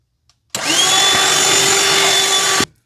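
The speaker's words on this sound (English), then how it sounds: "I would gently pull it apart, and then I would just vacuum the edges of the fabric" A vacuum cleaner runs over the cut edges of Luxe Cuddle plush fabric, starting abruptly, holding a loud steady whine for about two seconds, then cutting off.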